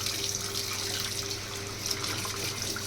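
Hot water runs steadily from a hotel bathroom tap, a continuous close hiss and splash with no pauses.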